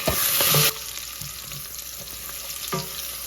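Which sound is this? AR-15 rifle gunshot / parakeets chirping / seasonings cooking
seasonings cooking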